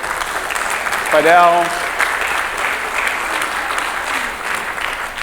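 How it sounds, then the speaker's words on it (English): Applause from an audience at a chef's cooking demo, a steady wash of many hands clapping throughout, with a short sung or called-out voice rising briefly near the start. "a round of applause for Vanessa"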